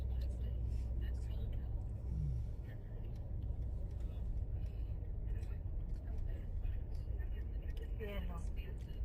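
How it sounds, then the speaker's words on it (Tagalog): Morning road traffic passes by on a busy local street, a continuous low rumble of cars and buses at moderate distance, with faint voices talking over it. "nagka-traffic dito pag sa umaga"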